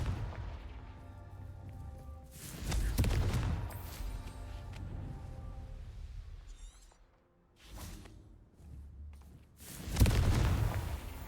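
Confringo spell blasts in the Hogwarts Legacy video game: several loud explosive bursts with whooshing and shattering debris, spaced a few seconds apart, with rumbling in between and a brief lull before the last heavy blast.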